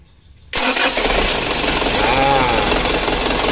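A small engine in an oil-sludged motor cranks on its starter and catches abruptly, then runs at a steady, loud, close idle with no pause.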